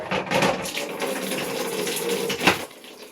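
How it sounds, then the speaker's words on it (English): Laundry being rinsed by hand with clean tap water, a close, loud splashing and running-water rush through the clip, with a stronger slosh near the end. "Now I just need to rinse with clean water 2 to 3 times."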